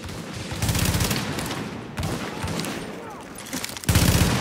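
Rapid automatic rifle fire from a toxic rifle in the video game The Division, in three sustained bursts separated by brief pauses, loud and close, with the last burst starting abruptly near the end.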